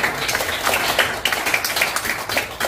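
An audience clapping in a lecture hall during a photography talk for advance-directive counselors, a steady patter of many hands at moderate loudness without talk.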